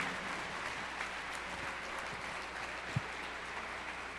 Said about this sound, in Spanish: Denles por favor un aplauso por el trabajo que han hecho